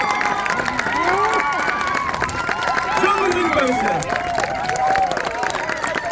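A festival crowd at the Saint Loup event in Trescalan-La Turballe cheers and claps in a loud continuous roar with whistles and shouts, while an announcer speaks over it.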